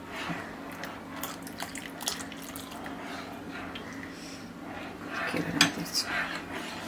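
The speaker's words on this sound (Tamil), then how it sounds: "கொஞ்சம் கொஞ்சமாக இப்படி ஊற்றி ஊற்றி ஊற்றி இதை கிளறி விடுங்க" Custard powder mixture poured into boiled milk and stirred in a pot, with a spoon clinking and scraping against the metal and liquid splashing, steady and close throughout.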